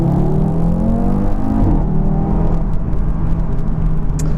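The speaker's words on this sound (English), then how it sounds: "So I'll just give it a full throttle start and we'll see how we get on." An Audi RS3 saloon with traction control on makes a loud, steady engine roar under full-throttle launch, with rising harmonic bands that shift around the 1.7-second mark as it accelerates away, then settle into a sustained drone.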